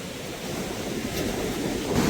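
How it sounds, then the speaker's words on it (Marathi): Rough, churning sea waves wash steadily ashore during a mullet fishing outing, a continuous surf roar with swelling intensity toward the end and no voices. "लाटा बघताय तुम्ही लाटा जबरदस्त असा म्हणजे खवळला समुद्र आहे"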